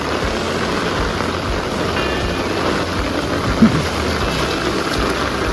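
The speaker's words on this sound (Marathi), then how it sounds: "पाऊस पण डेंजरच जोरामध्ये" Heavy rain pours down in a steady, loud, unbroken hiss over a paddy field during traditional rice transplanting.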